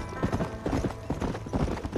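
Horse hooves clip-clopping in a steady, rhythmic trot in Red Dead Redemption, close and moderately loud with a sustained tonal background underneath.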